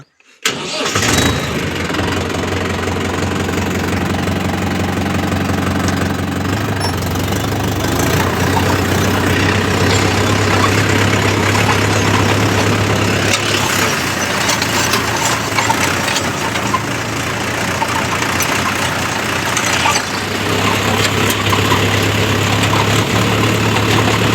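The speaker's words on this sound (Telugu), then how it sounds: "ఇప్పుడు బండి అయితే స్టార్ట్ చేద్దాం ఇప్పుడు" A cotton-stalk cutting vehicle fitted with newly installed blades cranks and catches, then settles into a loud, steady close-up engine idle with a persistent low rumble and clattering mechanical noise, briefly changing pitch midway.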